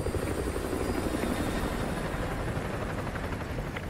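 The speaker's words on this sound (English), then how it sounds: "Enemy helo patrolling the perimeter." An enemy helicopter patrols a perimeter in Call of Duty Modern Warfare 2, its rotor thumping as a steady, fairly loud drone throughout with no voices over it.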